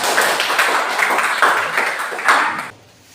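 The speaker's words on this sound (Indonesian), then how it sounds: "Tepuk tangan untuk kita semua." A classroom of students claps together in steady, dense applause at a school lesson, loud and close, then the clapping stops abruptly near the end and leaves quiet room tone.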